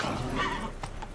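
A horse in the video game The Witcher 3 gives a short whinny, with hoof clip-clop, mid-volume and brief over game background sound.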